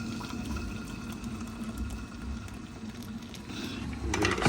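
Hot water pours steadily into a mug for a breakfast drink, a continuous liquid trickle and fill close by with a faint background hum, swelling slightly louder near the end.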